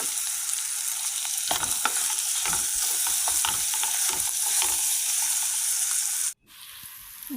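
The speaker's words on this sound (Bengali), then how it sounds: "তারপর আমি বয়েল করা পাস্তাগুলো দিয়ে দেবো চিকেন ও পেঁয়াজের মধ্যে।" Boiled pasta being stir-fried with chicken and onion in a hot pan, a steady close sizzle with frequent scraping stirs for about six seconds before the frying noise suddenly drops away.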